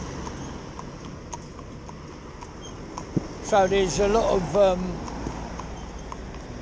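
Hooves of a mini cob horse clip-clop steadily at a walking pace nearby while someone talks over them briefly.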